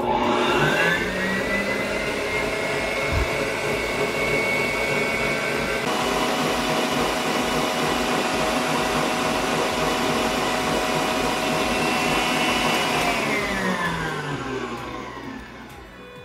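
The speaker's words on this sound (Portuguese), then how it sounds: "Agora a gente vai bater esses dois aqui até chegar nesse ponto que eu vou te mostrar." An electric mixer beats a mixture of two ingredients including sugar, a steady loud whirring drone that keeps going with no talk and fades slightly at the end.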